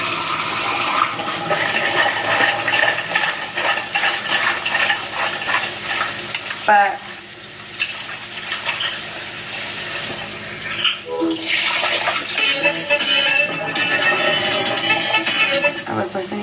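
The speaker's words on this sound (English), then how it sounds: "But for me, I do like to at least rinse them a little bit" Water from a kitchen tap runs steadily over raw shrimp being rinsed, a broad continuous splashing with brief interruptions as the shrimp are handled, with a short spoken word.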